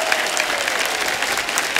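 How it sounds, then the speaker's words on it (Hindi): Dense audience applause for a stand-up comedian on a laughter championship stage, a loud, continuous wash of many hands clapping throughout. "मैं एक बार फिर से आपके लिए तालियां बजाऊंगा"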